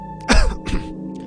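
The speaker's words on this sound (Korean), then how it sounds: "이장님은 다시 헛기침을 하며 말했다" A village chief in a Korean horror radio drama clears his throat with two gruff, close coughs in quick succession, alone with no speech.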